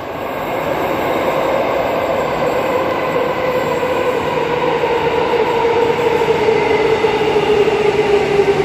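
A loud A-series electric train at Subiaco station, a roaring, steady rumble with rising tonal whine from the motors building over several seconds, close by on the platform.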